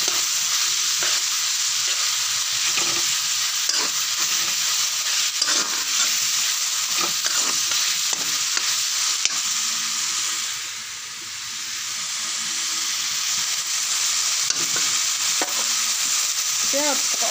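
Masala sizzling and frying in a pan for fish curry with steady scraping stirs, a continuous hiss filling the scene at close range, no talking.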